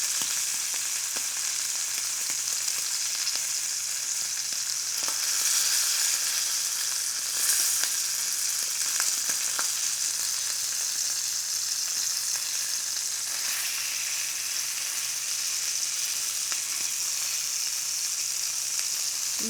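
A pheasant ballotine sears in a hot pan, a loud, steady sizzle and crackle running unbroken throughout, with faint occasional pops and no talking.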